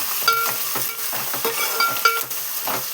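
Oil sizzles steadily as onions, dried red chillies and curry leaves are stirred in a pan, with repeated scraping and clinking of a spoon against the vessel.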